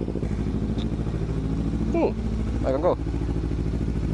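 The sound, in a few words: Kawasaki motorcycle engine running while riding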